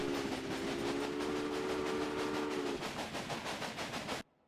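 A train running in the video game Railway Empire, with a steady rhythmic clickety-clack of wheels over rail joints under a sustained whistle-like tone that fades midway, then cutting off abruptly into silence.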